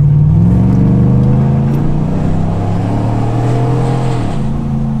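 Lifted Chevrolet Silverado with traction control off and traction bars launches from a dead stop through an intersection, a loud close engine roar that climbs steadily in pitch for about four seconds before a gear change drops it.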